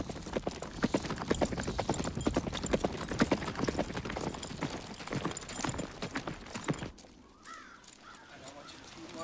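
Horses moving at a trot, hooves clip-clopping in a dense, steady rhythm on the ground, with crows cawing around them; the hoofbeats fade out abruptly near the end, leaving a quieter outdoor background.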